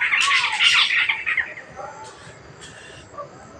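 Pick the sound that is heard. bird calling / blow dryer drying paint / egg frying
bird calling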